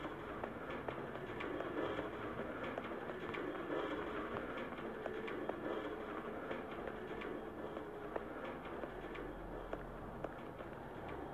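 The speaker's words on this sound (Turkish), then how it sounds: "Gördüğünüz gibi trenimiz gidiyor." An Izmir metro train pulls out of underground Konak station, a steady rumble and rolling rail noise that holds at an even, fairly loud level throughout, with no talk over it.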